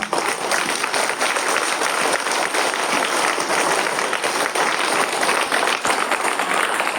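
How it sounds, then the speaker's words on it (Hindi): Loud, sustained applause from a school gathering at a child abuse awareness campaign, a dense continuous wash of many clapping hands honoring the principal, steady throughout with no pauses. "एक बार सर के लिए भी जोरदार तालियां"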